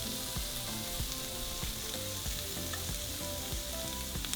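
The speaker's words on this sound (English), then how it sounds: "And now we're going to cook our shrimp." Shrimp sizzle on a hot grill with a dense, constant hiss peppered with small pops and crackles, close and fairly loud, with no one speaking.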